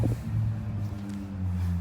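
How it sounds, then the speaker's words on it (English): A car engine hums low and steady as the car turns at a street corner beside a building, with a moderate, continuous rumble and no voices. "There's an engine sound right when it turns over there"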